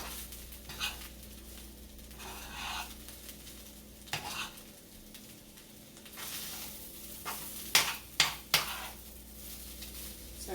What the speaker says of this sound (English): you want to stir this around often because you don't want it to stick